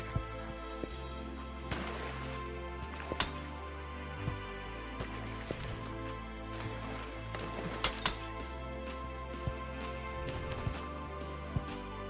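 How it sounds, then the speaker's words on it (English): In the video game Yeeps Hide and Seek, glass blocks punched by fists give sharp glassy clinks and shattering bursts over a steady synthetic music bed, with a few louder breaks near the middle and end. "just raw fist power is enough to break some of the glass"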